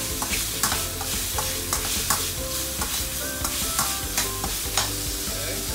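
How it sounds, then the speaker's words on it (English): Fried egg noodles with fish cake get stirred in a wok, and a spatula scrapes and clanks rhythmically against the metal over a steady, close, loud sizzle of hot oil. "Give it a few stirs."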